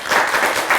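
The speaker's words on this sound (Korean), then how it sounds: "선생님 홀로 서서 더불어 하시라고 박수 한번 주시죠." A brief burst of audience clapping at a live lecture show, loud and close, lasting under a second.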